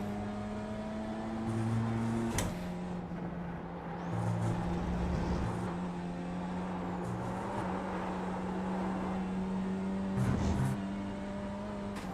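A sports car engine in the iRacing sim drones steadily in a handicap race, holding a sustained tone with brief surges of revving and wheel spin, loud and close throughout.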